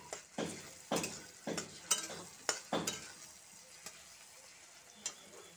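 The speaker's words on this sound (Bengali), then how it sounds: "পেঁয়াজটা আর টমেটোটা মোটামুটি ভাজা হয়ে গেছে" Chopped onion and tomato frying in a pan with green chillies, a quiet sizzle under repeated scraping and stirring strokes from a spatula at an uneven rhythm, close and without talking.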